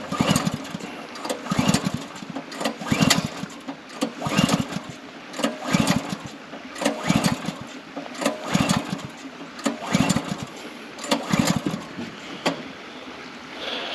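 A small engine with the choke off is pull-started over and over, each yank giving a close, loud, rhythmic chugging burst that never catches and settles into running.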